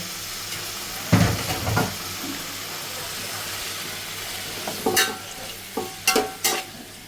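Tomatoes drop into a pan of frying ginger, garlic and curry leaves for an Indian fish-head curry, giving a low steady sizzle broken by a few stirring scrapes and clatters near the end.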